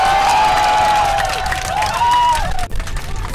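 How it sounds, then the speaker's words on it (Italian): Airplane passengers applaud and cheer the pilot on landing, a loud steady crowd of clapping and whoops with a whistle-like tone sliding through, dipping briefly near the end before picking back up. "Applausi, addirittura fischi."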